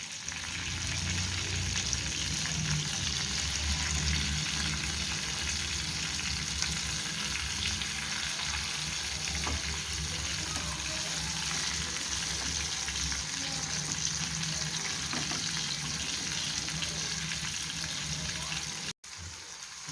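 Tandoori chicken pieces cook in a covered pan with a steady, close frying sizzle that holds level throughout, dropping briefly near the end.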